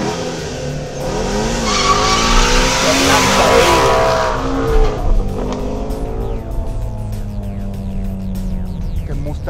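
A Ford Shelby GT350 Mustang launches hard using launch control: a loud, close engine roars and revs upward while the tires squeal and skid, then the sound settles into a steadier, fading drone with no talking.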